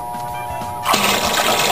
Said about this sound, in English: So now we have to fill up our fry pot with cold water. Just going to pour that right into the pot.